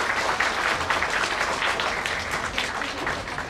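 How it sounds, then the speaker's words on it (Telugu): An audience at an educational institute event claps loudly together in a dense, steady burst of applause that holds evenly for a few seconds with no one talking over it. "మరి మీకు అందరికి కూడా సంతోషంగా ఉందంటే ఒక్కసారి గట్టిగా క్లాప్ కొట్టే."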